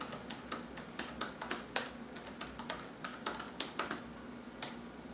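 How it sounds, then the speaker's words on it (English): Keys clatter on the keyboard of a Toshiba Portégé 3500 tablet PC from 2002, with quick, irregular, close-up taps and small pauses between bursts. "Type my name here."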